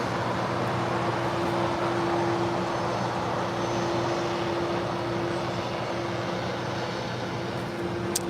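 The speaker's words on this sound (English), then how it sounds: "That is United Airlines Flight 2604 coming in from San Francisco, SFO on a 737-800." A United Airlines Boeing 737-800 arriving at Los Angeles International Airport, a steady engine roar with a constant tonal whine, fairly distant and unchanging, no voices.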